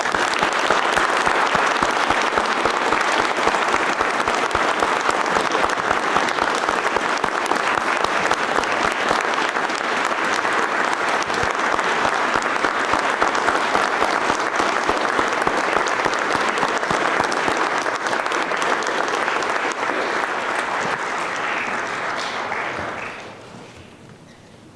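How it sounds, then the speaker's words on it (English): Sustained audience applause at a World War II memorial ceremony honoring a veteran, loud and steady clapping from a large crowd for over twenty seconds before fading out at the end. "Let's give Sergeant Major Orlando a round of applause that a World War II veteran truly deserves"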